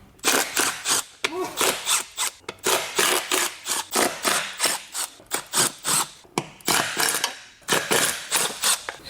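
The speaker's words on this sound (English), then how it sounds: "I've got to take these Torx bolts off first." Torx bolts come out of a garage creeper with rhythmic, close ratcheting strokes in repeated quick bursts, loud and steady through the whole stretch.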